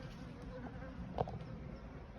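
Foraging honeybees buzz around a hive's rear entrance on a hot day, a steady faint drone of many insects with a brief louder buzz as one passes close.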